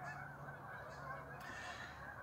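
Canada geese honk in a faint, distant chorus, a steady low babble of calls with no speech.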